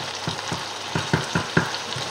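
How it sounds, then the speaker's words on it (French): Salmon cooking in a pan over low heat for a salmon risotto gives a steady close sizzle, with soft stirring clicks repeating about every quarter second. "Pensez de temps en temps à remuer votre saumon quand même, qui est en train de cuire sur le côté"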